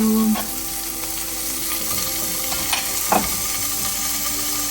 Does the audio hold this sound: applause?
no